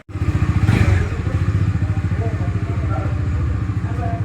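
A new motorcycle's engine booms close up, a deep, rapid, even throb of exhaust pulses that holds steady and loud without pause.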